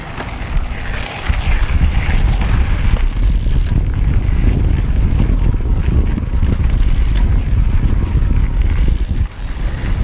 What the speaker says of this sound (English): Now I'm gonna point you down at the PW motor,